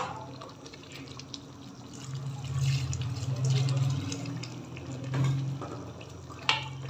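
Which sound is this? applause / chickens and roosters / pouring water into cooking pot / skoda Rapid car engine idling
pouring water into cooking pot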